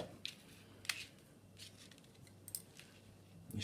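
Small snips cut the tag end of a fishing line on a pulley rig, making a few faint, sharp clicks spaced apart against a quiet background.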